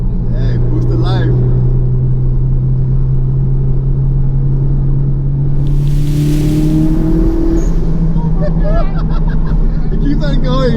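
A turbocharged 1988 Toyota MR2 AW11 engine pulls hard under boost, its rising drone climbing steadily in pitch from inside the cabin, with people talking over it.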